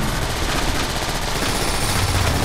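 Continuous dense weapon fire in Transformers: War for Cybertron as turrets on Omega Supreme are peppered with ammo, a steady loud rattling barrage with rumbling low end and no speech.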